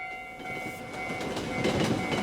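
An anime scene at a railroad crossing as a train passes: a steady rumble and rattle of rail cars that builds slightly, with thin sustained tones above. No voices.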